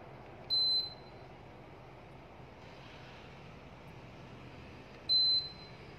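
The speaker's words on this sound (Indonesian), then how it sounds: "Sudah ada bip." A repaired electronic device giving two short high beeps about four and a half seconds apart, clear and close over a faint steady hum.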